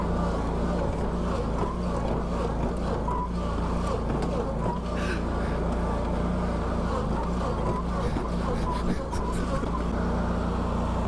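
Zero turn lawn mower driving through a mud pit, its engine holding a steady loud drone with rough churning texture and a few sharp clunks, up close with no talk.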